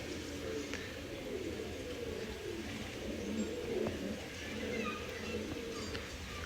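Pigeons kept in a loft coo softly and continuously against a low, murmuring background, with no clear talk.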